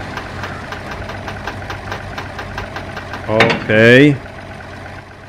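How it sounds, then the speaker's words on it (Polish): A Zetor tractor engine idles nearby at harvest time with a steady, rhythmic knocking chug, and someone speaks briefly over it. "No i chyba będę musiał podjechać traktorem"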